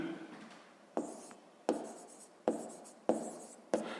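A pen writes on paper during a sixth-grade maths exercise, giving six distinct scratchy strokes, each starting sharply and trailing off, close and fairly quiet with no talking.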